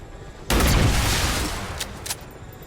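Gunfire with AP ammo in XCOM Long War of the Chosen, a sudden loud single blast with a booming tail that decays over a second or two, followed by a few faint sharp clicks.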